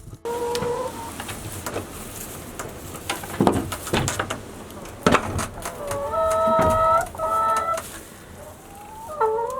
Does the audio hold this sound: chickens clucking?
yes